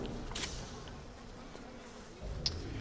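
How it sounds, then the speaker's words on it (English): Swarming bees in the BioShock video game apiary give off a steady, low, droning hum that fills the background continuously, with a few brief brighter blips along the way. "As the bees are attacking us for some reason."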